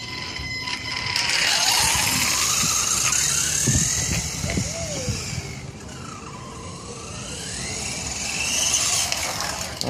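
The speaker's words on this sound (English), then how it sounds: "Car passed by." A car passes by on the road, its engine and tyre noise swelling and fading over several seconds, with a rising and falling whine from a nearby Helion Animus 18SC/18TR RC vehicle layered in.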